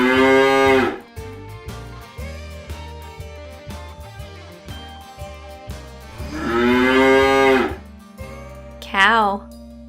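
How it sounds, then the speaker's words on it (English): Cow mooing in long, loud, drawn-out calls at the start and again near the end, with a playful background tune between for a toddlers' animal sounds guessing game. "Cow."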